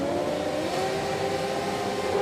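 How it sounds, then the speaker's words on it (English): Supersport motorcycles on the grid at Road Atlanta for a MotoAmerica race start, engines revving together in a steady, sustained mid-pitched drone that holds without a break. "Revs are going up"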